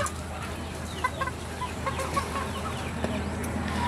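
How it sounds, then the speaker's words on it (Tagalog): Several large chickens cluck in short, scattered bursts against a low steady background hum, with no one talking. "Ang mga manok siya, sama-sama ang mga manok."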